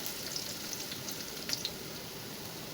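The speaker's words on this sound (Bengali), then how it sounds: "খুব ভালো করে আমি নাড়িয়ে নিচ্ছি। পেঁয়াজগুলোকে আমি ভাজা ভাজা করে নিব।" Onions frying with green chili and garlic in a pan, a faint, steady low sizzle with a few soft clicks from stirring.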